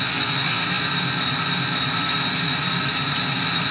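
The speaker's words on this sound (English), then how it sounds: "at least I know how to get the engine started up" A simulated F-18 jet engine in Chuck Yeager's Advanced Flight Trainer on a Macintosh SE roars steadily and loudly, a constant whooshing drone with a thin high whine and no voices.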